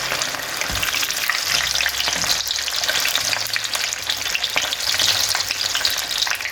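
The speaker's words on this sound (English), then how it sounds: "You have to fry them till they are golden brown in color." Cheesy potato corn cutlets frying in canola oil, a steady crackling sizzle with bursts of spattering and a few low knocks, close and continuous with no talking.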